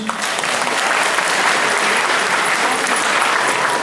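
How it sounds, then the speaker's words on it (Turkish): Loud, sustained audience applause at a gathering honoring a teacher with a gift, steady dense clapping filling the whole stretch without a break. "bir alkış istiyorum alkış"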